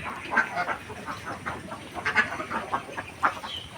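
Ducks on a duck farm stricken with duck plague quack in scattered, fairly faint calls over a low steady background, with no talking.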